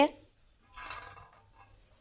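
A few light metallic clinks and scrapes of a ladle against a pot while serving cluster bean and potato curry, brief and fairly quiet, with a low background hum.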